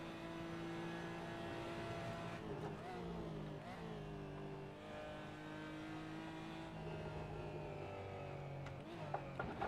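Porsche GT4 engine lapping the Nordschleife in the Assetto Corsa racing game, a close, continuous engine note rising and dropping through gear changes and revs, with brief dips as the car shifts.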